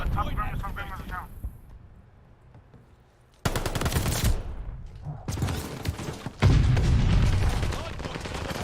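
Call of Duty multiplayer gunfire on a hardpoint map, loud close bursts of rapid automatic fire and heavy booms in dense stretches, broken by a quieter pause, with game voices and talk mixed in.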